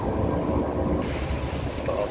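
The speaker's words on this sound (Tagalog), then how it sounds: "So mahangin dito sa forward ah" Strong wind blows across the forward deck of a ship on sea trials, a dense, steady rushing roar buffeting the microphone with heavy low rumble, loud and continuous for the whole stretch.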